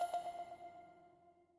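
A single bright chime rings out and slowly decays, the hold-to-interact audio cue tied to the triangle button in The Last of Us Part II Remastered on PS5, heard alone and fairly soft.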